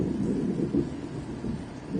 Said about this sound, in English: Listen to that thunder, guys.